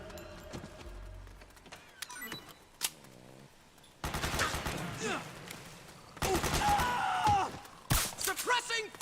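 Gunfire in Metal Gear Solid 4 during an attack: scattered shots and clanks at first, then sustained heavy bursts of rapid fire from about the midpoint, with voices shouting amid it.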